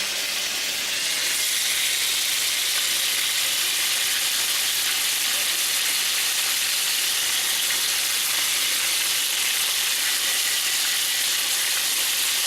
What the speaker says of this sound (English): you can hear that olive oil doing its job on that meat. Getting a nice sear on the outside.